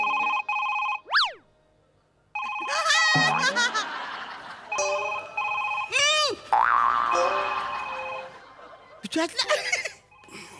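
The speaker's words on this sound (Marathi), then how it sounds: "पुतल्याचा फोन वाजतोय." A ringing telephone tone sounds among playful cartoon boing effects and bursts of chuckling, with voices talking in between.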